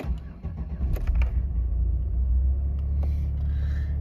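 A Chevrolet Camaro, not started for a couple of days, cranks and fires up, then settles into a loud, steady low rumble close by.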